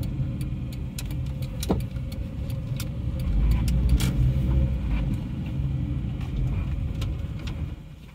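A 1996 Honda Orthia with a B20B engine and front-wheel drive creeps into a parking lot in Japan, its engine giving a low rumble that swells in the middle, with scattered clicks and rattles, close up and without talk.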